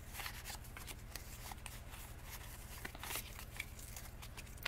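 Pokémon trading cards from a Vivid Voltage booster box being handled, shuffled and sorted into piles, with soft repeated flicks and slides of card stock over a steady low background hum.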